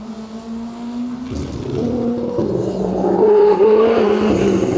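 A Mini Countryman WRC rally car engine drives hard, its pitch climbing and the roar growing louder over a few seconds, with possible tyre squeal and no talking.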